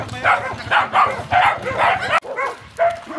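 Several dogs barking and yipping in repeated bursts at a riverside spot, fairly close, with short whimpers between barks and a voice talking over them.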